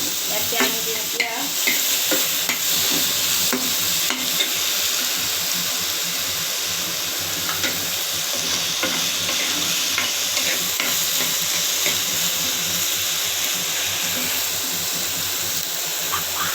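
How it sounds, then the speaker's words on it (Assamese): Taro stirred and fried in a pan sizzles with a continuous loud hiss, broken by scraping stirring strokes early on, with no talk over it. "এয়া কচু ভালদৰে লৰাই দিছোঁ। প্ৰায় ভাজা হৈ গৈছে।"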